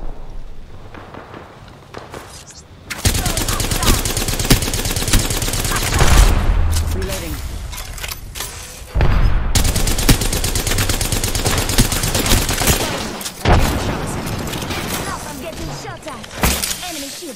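Sustained bursts of automatic gunfire in Apex Legends, loud and dense, with short pauses between volleys and a character voice calling out under the shots.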